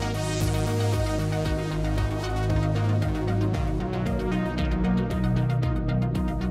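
A Korg multi/poly synthesizer preset with four layered sounds plays a dense, busy pattern of stacked tones and rhythmic pulses, loud and continuous with no talking.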